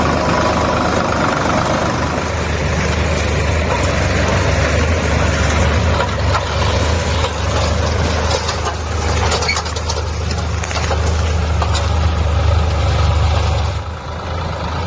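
A steady, low tractor engine rumble idles and chugs continuously throughout as the tractor runs over an unharvested cauliflower field in Haryana, with no voices.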